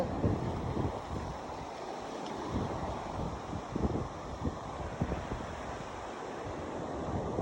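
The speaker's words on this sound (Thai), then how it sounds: "เฮ้ยลมแรงแปลกๆนะ" Strong gusty wind buffets the microphone on the beach at Ao Krathing, Chanthaburi, a loud, continuous roar with surf washing underneath and no speech.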